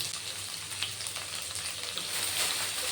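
Shallots, garlic and curry leaves sauté in oil in a pan, giving a dense, steady crackling sizzle close by that holds evenly and swells slightly toward the end.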